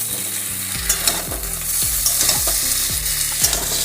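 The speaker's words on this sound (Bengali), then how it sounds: "ভালো করে নেড়ে নেবো।" Chicken drumsticks coated in poppy-seed and mustard paste fry in a pan and are stirred, loud close sizzling broken by regular scraping strokes about twice a second, with no voices.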